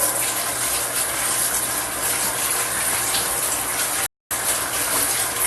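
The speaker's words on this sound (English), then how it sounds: "Wash my hands again." A kitchen tap runs at full flow while hands are washed during cooking. The water gives a loud, steady, close rush that cuts out for a moment near the end and then resumes.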